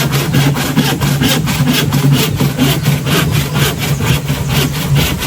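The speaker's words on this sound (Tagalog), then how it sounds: "Matalas naman yung lagari mo, bossing." A hand saw rasps through wood in quick, steady back-and-forth strokes, close and continuous, with no talking.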